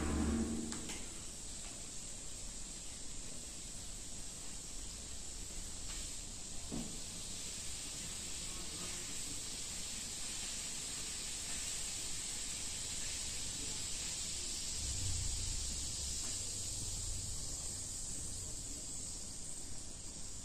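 Eno fruit salt fizzing in water with biscuits dropped in, a steady soft hiss of bubbles running throughout, faint and close, with a few light knocks and no talking.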